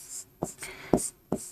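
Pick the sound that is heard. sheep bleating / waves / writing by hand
writing by hand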